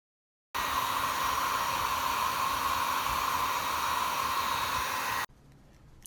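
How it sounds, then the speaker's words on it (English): A heat gun on its high setting blows on glue blobs, a steady loud whooshing roar that holds for several seconds and then cuts off sharply, leaving quiet room noise. "heat it with the heat gun on high settings for about 30 seconds"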